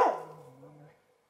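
A single dog bark outdoors in a spring garden, alerting to cows across the field, a sharp close yelp that trails into a short whining tail before fading to silence.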